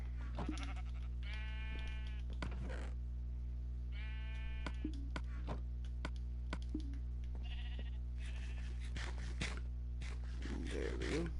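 Sheep in a PS4 video game bleat in three or four separate wavering calls spread across the stretch, each fairly close and clear over a steady low game hum, with soft scraping and shuffling sounds in between.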